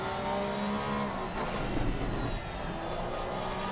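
Porsche race car in a sim racing event at Laguna Seca at dusk, engine droning loud and steady under acceleration, with a continuous high whine throughout.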